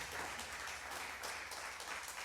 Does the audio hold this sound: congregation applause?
yes